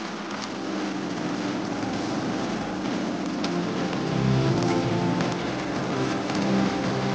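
Steady rain pours down outdoors, a continuous broadband hiss that stays even and fairly loud throughout, with a low rumble swelling slightly partway through and no voices.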